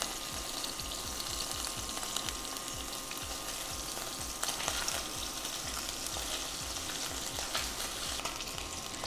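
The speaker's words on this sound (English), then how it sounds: "These may have to brown a little bit longer since it's turkey and it's bigger." Turkey neck and giblets brown in a pot for giblet gravy, a constant close sizzle and sputter with rapid popping crackles and occasional clinks, steady throughout and nobody speaking.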